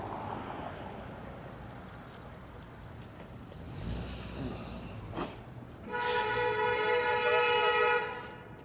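Toronto TTC streetcar rumbling past on a city street, building to a loud, sustained tonal screech from the wheels and rails for a couple of seconds before fading into traffic noise.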